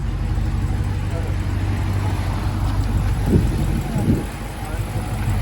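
A Dodge Charger Scat Pack with a 490-horsepower V8 idles close by, a steady deep rumble that stays even throughout, with a few louder low thumps near the end.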